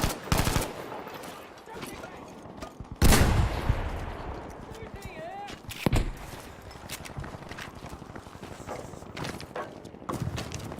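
Gunfire in the World War II video game Battlefield V, scattered loud shots and short bursts among footsteps and battlefield ambience, with a player talking now and then.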